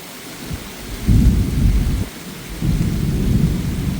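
Heavy out-of-season rain pours down steadily while deep rumbles of thunder swell in two long waves, loud and close, with no voices.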